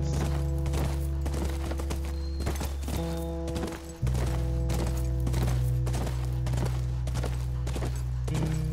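Horse hooves galloping in the video game The Last of Us, a steady rapid clip-clop rhythm on forest ground, close and continuous over a sustained musical drone.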